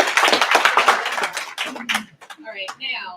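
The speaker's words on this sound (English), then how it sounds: "let's give a round of applause to these folks" Applause at a council meeting for community coalition members: a dense burst of many hands clapping for about a second and a half, then fading as a voice starts talking.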